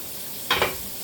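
Oxtail cooking in a pot gives a brief burst of sizzling and stirring, two quick close swells standing out from a steady low hiss.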